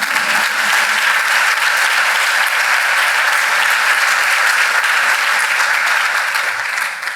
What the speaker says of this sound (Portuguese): Senhora, pode bater palmas, não tem problema.